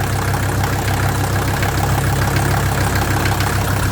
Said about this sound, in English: This engine runs really, really good.